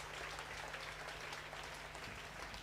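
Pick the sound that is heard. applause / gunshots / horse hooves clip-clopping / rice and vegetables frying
applause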